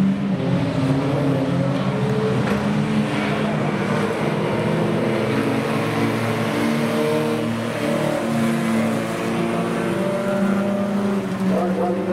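Jalopy race cars roar around the Meremere dirt track, one running with no tyre on a back rim, their engines a continuous loud, revving drone with overlapping motors rising and falling throughout.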